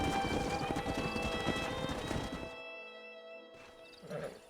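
Horses in the Western video game Red Dead Redemption, hooves clip-clopping in a busy rapid patter that cuts off abruptly, followed by a quieter stretch and a short snort or whinny near the end.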